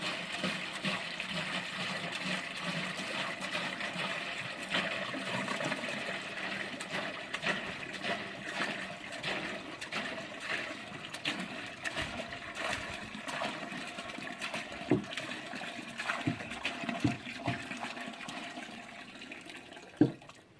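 Aquaponic pond filters are rinsed in a container of collected rainwater, giving a continuous close sloshing and trickling of water with a few small splashes, no voices.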